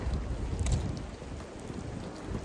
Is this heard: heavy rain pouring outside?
yes